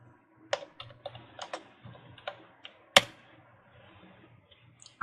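Keystrokes on a computer keyboard come in irregular, close clicks and taps, with one sharper clack partway through, set against near silence.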